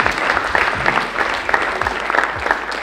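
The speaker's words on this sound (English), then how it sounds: "A hand of applause to your teammates," A crowd at a university challenge awarding ceremony applauds steadily, a dense, even wash of clapping that runs nearly the whole time, close and loud.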